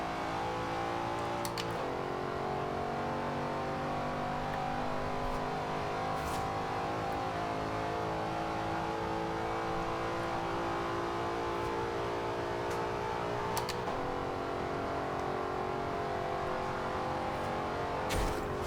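A 2013 Ford Shelby GT500 muscle car in Forza Horizon 2 pulls hard in a continuous, loud run, its engine note climbing steadily through the gears with brief dips at each shift.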